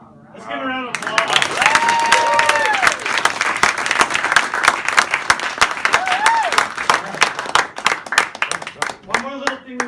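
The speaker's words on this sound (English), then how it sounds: "Let's give him a round of applause." An audience at a students' drum recital claps loudly and steadily for several seconds, with sharp dense hand claps, a few whoops and cheers rising over the crowd, and voices at the start and end.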